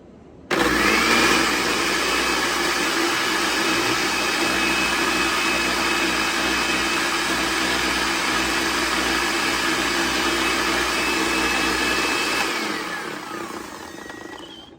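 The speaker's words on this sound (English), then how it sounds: "So let's try my blender." A blender whirs at a constant high pitch for about twelve seconds blending wild blueberry muffin ingredients, loud and close, then winds down and stops.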